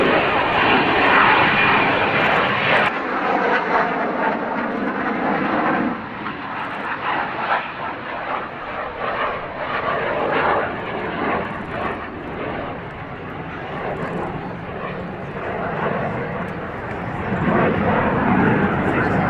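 A Japan Air Self-Defense Force aircraft flies over during the Air Festa Hamamatsu 2022 air show at Hamamatsu base in Shizuoka, giving a loud, continuous engine roar that swells and fades slightly across the whole stretch, with faint voices nearby.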